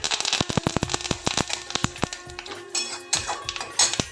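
Curry leaves hitting hot oil in a tempering of chana dal and asafoetida, bursting into a loud, close burst of sharp pops and sputtering crackles that continue in quick irregular succession.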